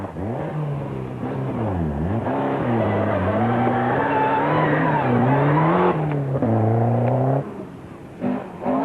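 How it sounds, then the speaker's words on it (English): A four-wheel drive Ford Sierra rally car drives hard on a snowy stage, its engine revving up and down through gear changes in a loud, continuous roar with rising and falling pitch sweeps, easing briefly near the end. "Gordon Boyd spent the last year getting to grips with his four-wheel drive Sierra"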